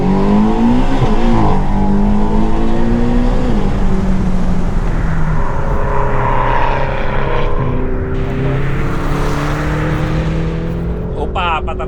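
A McLaren GT sports car drives hard on a road. Its engine drones loud and close, the revs climbing and falling through gear changes, with voices talking faintly underneath.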